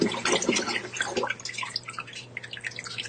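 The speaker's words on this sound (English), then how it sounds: "the water is coming out of the float valve" Water spills from a float valve into a bucket, with close splashing and dripping that is loud at first and then eases into lighter trickles and drips.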